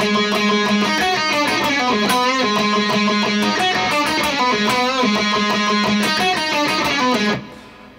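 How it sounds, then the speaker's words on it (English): Electric guitar playing the second riff of a song, a steady repeating pattern of picked notes and hammer-ons over a sustained drone, loud and alone. "And then it goes on to the next riff, riff number two, which sounds like this."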